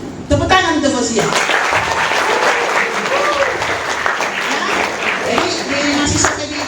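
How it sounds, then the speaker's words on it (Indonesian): An audience of university students claps for a fellow student at a faculty welcome event, with loud, sustained applause mixed with voices and cheering throughout. "Tepuk tangan untuk Fauzia."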